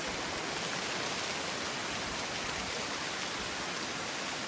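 Heavy rain near Donne Falls, a waterfall in Ankola: a dense, steady hiss of falling water with no pauses, soft in level and with no voices.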